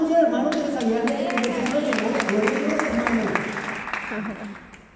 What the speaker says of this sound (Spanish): dale un fuerte aplauso al hermano